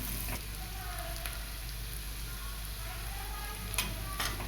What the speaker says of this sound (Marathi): हळदीमध्ये याला छान परतून घेऊया.